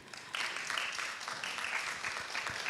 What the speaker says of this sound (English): We give them a very big round of applause.